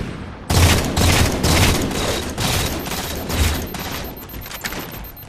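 Halo 4 multiplayer gunfire, including rail gun shots, rings out in loud, sharp bursts. Each volley fades into an echoing tail and is followed by scattered shots.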